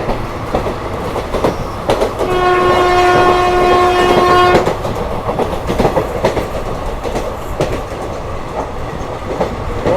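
A train on an Indian railway line near Tiptur overtakes another, its horn blasting steadily for about two seconds over the loud, continuous rumble and clatter of passing wagons.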